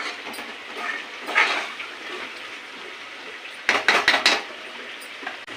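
Ginger paste frying in a pan for a mutton curry gives a steady close sizzle, broken by a cluster of sharp utensil clanks partway through.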